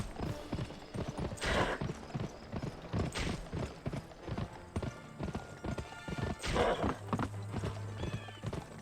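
Rapid clip-clop of horse hooves galloping steadily in the PS2 game Gun, with a brief whinny and some game sound effects layered over the rhythm.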